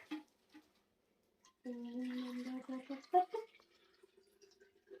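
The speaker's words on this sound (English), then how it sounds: "We're going to pour some of the water in here." Hot water poured from a bottle into another container for a red cabbage acid-base experiment, a steady pour of about a second and a half with faint splashing, followed by quieter trickles and drips.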